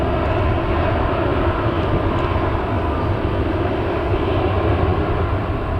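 Jet2 Airbus A321neo at Manchester Airport, heard as a loud, steady broadband engine roar that stays constant and close for several seconds, with no voices over it.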